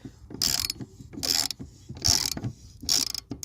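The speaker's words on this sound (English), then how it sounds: "I gotta tighten this bolt down." A ratchet tightens the bolt on a lawnmower blade with four evenly spaced bursts of rapid clicking, each close and crisp.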